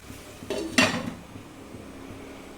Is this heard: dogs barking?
no